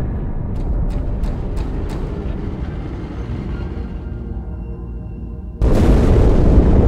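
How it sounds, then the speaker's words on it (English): A deep, rumbling explosion from inside the Athens in Halo 2, with low boom and crackling debris, followed by a sudden louder blast of dense noise near the end. "That explosion came from inside the Athens"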